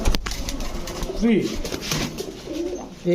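Pigeons of breeds such as Kamargar, Rampuri, Kaldam and Gorra coo at a market sale, with several soft, throaty coos near and clear over a busy background where people talk.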